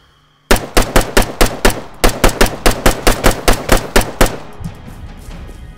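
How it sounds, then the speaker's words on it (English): Automatic weapon fire in the military video game Arma 3, a rapid, evenly spaced burst of about twenty loud close shots with a short break midway, then fading echo. "Alright, I'm about to start firing."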